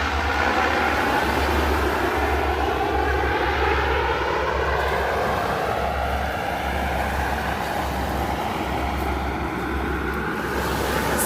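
A loud firefighting airplane engine drones continuously overhead while fighting a mountain fire by the Tyrrhenian Sea, a steady roar with a low throbbing pulse and no voices.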